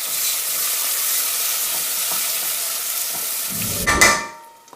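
Chicken tikka masala sizzles steadily in a pan, then a spoon stirs it near the end with a short, louder scraping burst before the frying fades.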